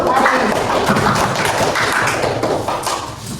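Elementary school pupils clap their hands in a classroom at SD Negeri Galis 1, a loud, close burst of uneven slaps and thumps that keeps going for several seconds before easing off.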